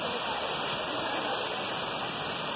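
Cachoeira do Antares waterfall in São Thomé das Letras roars as a dense, constant rush of falling water, heard close and loud with no break.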